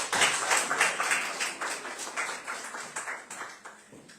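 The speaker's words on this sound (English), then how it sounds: "Clap for Mr. John" Lecture audience applauding a speaker at an evening memorial lecture and panel discussion, a steady run of many hands clapping at moderate level throughout, fading slightly toward the end with no talk over it.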